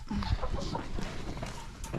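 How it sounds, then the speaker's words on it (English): A hen clucks close by in a farm setting, a couple of short low clucks near the start over a busy, noisy background of other fowl and farm sounds. "Well, it's a hen, but I'm not sure what it is, but it's pretty."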